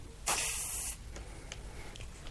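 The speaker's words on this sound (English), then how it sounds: "we'll put the liquid wrench penetrating oil into this one" Liquid Wrench penetrating oil sprayed from a can onto a rusted spark plug: one short, close hiss lasting under a second, followed by quiet room tone.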